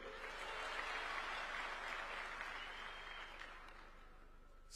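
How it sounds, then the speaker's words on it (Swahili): Quiet audience clapping at a State House speech gathering, a steady patter of hands heard from a distance and fading slightly over a few seconds. "Situpigie makofi kidogo"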